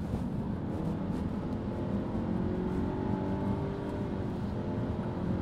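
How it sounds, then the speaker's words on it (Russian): A Nissan X-Trail with a CVT gearbox revs loudly under full throttle, its engine holding a steady droning roar that barely changes pitch as the car slowly gathers speed. "когда ты нажимаешь в пол, поднимаются обороты и более ничего не происходит, то есть машина орет и плавненько-плавненько набирает скорость"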